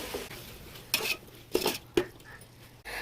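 Marinated chicken pieces tipped into a biryani pot and mixed, giving a few separate clanks and scrapes of a spoon against the metal pot, with quiet stretches between them and no talk.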